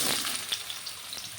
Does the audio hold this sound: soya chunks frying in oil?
yes